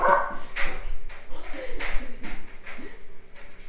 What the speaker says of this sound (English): He's barking.